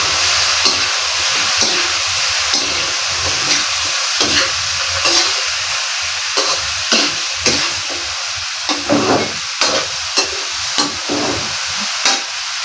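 Food sizzling and frying in a pan while being stirred, a loud continuous hiss broken by repeated scraping strokes of the spoon at a regular pace, close up with no talking.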